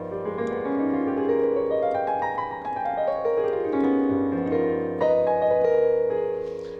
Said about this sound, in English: The altered dominant 7th chord, which I call the chocolate chord.